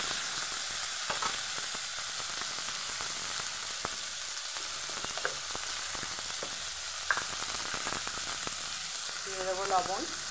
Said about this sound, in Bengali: দেখুন খুব ভালোভাবে লাল করে আমি ভাজি নিব